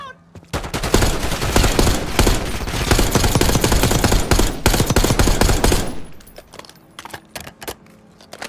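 A video game shootout rattles with dense, rapid bursts of automatic gunfire for about five seconds, then breaks into scattered single shots and metallic clinks as the firing tapers off.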